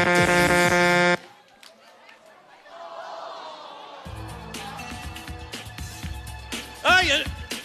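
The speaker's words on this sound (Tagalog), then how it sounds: "Nakabusinahan na ni Bale." A loud, steady vehicle horn blares for about a second at the start of a Philippine noontime variety show segment, cutting off abruptly, followed by studio crowd chatter and laughter.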